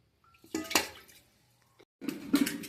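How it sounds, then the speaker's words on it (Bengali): Koi fish being poured into a dish: wet splashing and sloshing in two bursts, with clinks of the container, separated by a quiet pause. Close and fairly soft. "মাছগুলো এবার ঢেলে দেই।"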